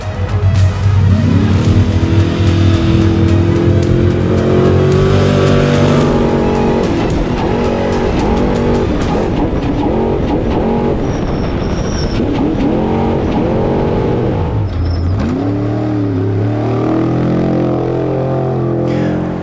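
An off-road race truck at the Baja 500 roars loud and close, its engine revving hard through repeated rises and falls in pitch, with no talk over it.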